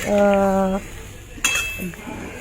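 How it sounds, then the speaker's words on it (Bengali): A spatula scrapes and clinks against a pan while stirring pomfret fish curry in a Bengali-style recipe, after a short voiced tone at the start, with soft metallic taps close by. "দিয়ে ভালো করে খুন্তির সাহায্যে নাড়িয়ে নিচ্ছি"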